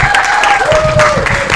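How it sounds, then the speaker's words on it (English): Audience at a city committee meeting applauding a first award recipient, a steady wash of clapping hands that fills the room for the short stretch, with a faint tonal whistle or feedback line running underneath. "Big another round of applause for Q Strotter there,"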